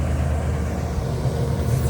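An XCMG XE205D excavator's diesel engine rumbles heavily as the machine travels, a steady, close, low-pitched drone with no break.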